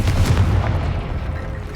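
A fire-spell explosion in the Hogwarts Legacy video game, a deep rumbling boom with crackling bursts that rolls and gradually fades, loud and dense throughout.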